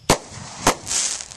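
Fireworks go off outdoors as two sharp, loud bangs about half a second apart, followed by a hissing, crackling tail.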